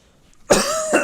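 One sharp, close cough bursts out with a rough, throaty edge, followed by a brief second hack.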